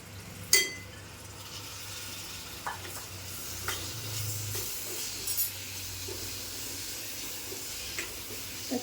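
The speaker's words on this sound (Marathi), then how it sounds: "आता फोडणीमध्येच आपल्याला टोमॅटो टाकायचा आहे." Finely chopped tomato drops into hot oil tempering for a Malvani cashew and potato curry, setting off a steady sizzle with a sharp clatter of the spoon and a few light stirring knocks, close by.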